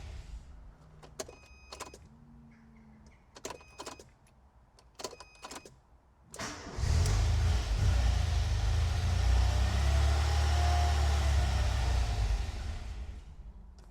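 A few clicks and faint beeps, then a Ford Escort XR3i cabriolet engine cranks and catches on a faulty cold start, settling into a loud, rough idle that runs on steadily.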